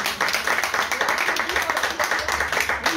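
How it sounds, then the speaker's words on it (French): Audience applause at a conference on family heritage and dysfunction, a steady wash of many hands clapping throughout, moderately loud and continuous. "vous pouvez applaudir Dominique Guénin"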